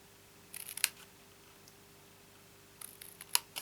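Scissors snipping through card for a handmade gift box, a few short crisp cuts in two separate clusters, close and quiet with silence between and no speech.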